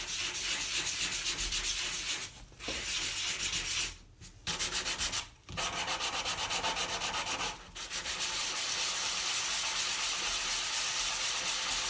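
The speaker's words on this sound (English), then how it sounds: "Until finally sanding with different grids of paper." Sandpaper rubs steadily over a wooden guitar neck, a continuous close hiss broken by a few short pauses.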